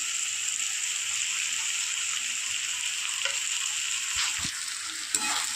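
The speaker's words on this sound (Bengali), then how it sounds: "এবার এটা ভালো করে কষিয়ে নেব" Boiled potatoes and egg frying with ground spices and salt, a constant bright sizzle close by, with a few soft stirring knocks near the end and no voices.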